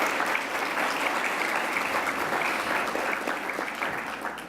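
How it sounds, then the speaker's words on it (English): Sustained applause from a conference audience at a healthcare conference's opening presentations, honoring the premium sponsor; a dense, even roar of many hands that holds steady and eases slightly at the end. "Can we please give them another round of applause for that?"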